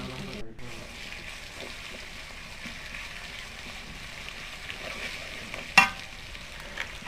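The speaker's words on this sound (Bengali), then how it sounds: "এরপর আদা বাটা, জিরা বাটা, এলাচ, দারচিনি, তেজপাতা এগুলো দিয়ে আবার নাড়াচাড়া করতে হবে" Haleem cooking in a pot, stirred after ginger paste, cumin paste, cardamom, cinnamon and bay leaf go in: a steady low sizzle and scraping stir run throughout, with one sharp utensil clack near the end.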